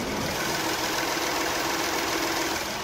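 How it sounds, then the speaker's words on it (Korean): A Hyundai Aslan car engine idles steadily under an open hood with a smooth, even hum and faint rhythmic ticking, heard up close with no talking. "굉장히 정숙하고 규칙적인 엔진 사운드 들려주고 있고요"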